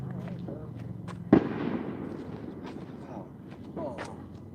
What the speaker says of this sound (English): I thought I just heard gunshots across the way.